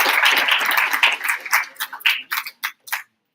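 A small group of athletes at a team meeting claps for themselves, a dense burst of applause that thins into a few scattered last claps before silence.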